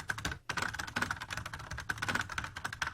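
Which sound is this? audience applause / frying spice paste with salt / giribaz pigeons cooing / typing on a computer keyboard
typing on a computer keyboard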